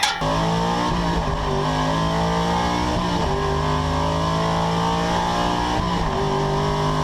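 A car engine revving played through a speaker beside an old Dodge Challenger, giving a loud, continuous engine drone with rising and falling pitch in repeated surges, steady and close throughout.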